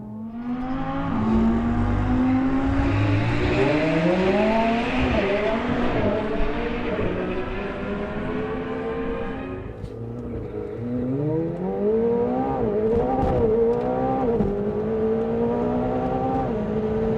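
A McLaren 720S launches hard at a Santapod drag race. The engine is loud and close, rising steeply through several gears with sharp upshifts, easing off briefly near the middle, then climbing again through further gear changes.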